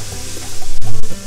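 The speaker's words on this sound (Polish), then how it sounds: "na nagrzaną patelnię wsypujemy gyros i smażymy." Steady close sizzling of gyros meat frying in oil in a hot pan, a continuous crackling hiss with a few soft clinks.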